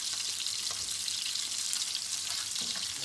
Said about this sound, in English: let that sizzle away for a few more moments